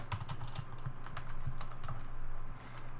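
Typing on a computer keyboard while entering Ruby code: a quick, steady run of close key clicks at moderate loudness, with no talking.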